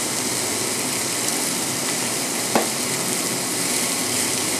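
A Man o' War steak fries in a pan with a steady, dense sizzle and hiss throughout, close and unbroken except for a single faint tick midway, with no talking.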